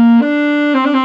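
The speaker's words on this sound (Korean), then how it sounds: "근데 여기에다가 내가 호흡을 더 세게 주면" Saxophone blown with too much breath pressure, sounding one sustained, bright, buzzy note for about a second with a slight wavering near the end.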